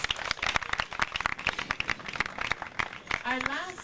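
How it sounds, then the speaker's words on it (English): An audience at a pitch night for entrepreneurs in Freetown claps in a scattered round of applause, with sharp, irregular hand claps. A voice speaks over the clapping near the end. "Let's give them another round of applause."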